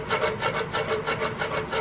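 Sandpaper rubbing back and forth on the rear sight of a flintlock Hawken rifle, a steady rhythmic rasping of about nine quick strokes, close and fairly quiet.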